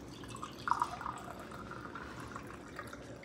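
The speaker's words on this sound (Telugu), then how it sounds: "సో కొంచెం హాట్ వాటర్ అయితే పోసుకుందాం." Hot water poured into a mug for making hot cocoa, a faint, steady trickling and dripping fill heard close and alone at low level.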